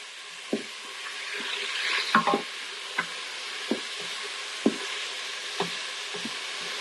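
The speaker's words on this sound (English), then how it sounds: "So I will saute them for about 3 minutes until they get softened." Vegetables for a potato soup sauté in a pan, giving a soft continuous sizzle broken by a series of spatula scrapes and taps roughly every second, close and moderately quiet.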